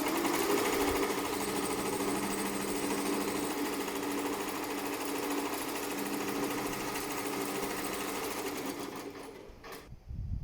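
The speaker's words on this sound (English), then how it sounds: "And then we can click this to start the embroidery work." A Rainbow embroidery machine stitching an applique outline, running as a loud, fast, steady mechanical chatter that continues for about ten seconds before stopping.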